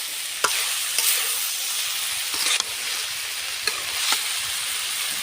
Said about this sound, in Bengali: এভাবে কিছুক্ষণ পরে নেড়ে দিচ্ছি। ভাজিটা অনেক সুন্দর হচ্ছে